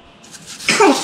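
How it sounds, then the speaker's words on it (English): A baby sneezes once, a short sharp burst close by, rising out of a quiet room. "Did you have a sneeze? You had a sneeze."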